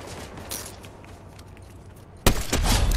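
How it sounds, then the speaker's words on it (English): Gunfire in a Fortnite match comes through as a few faint distant pops, then a sudden loud burst that ends in a dense, sustained blast of noise. "there's somebody shooting. They shooting."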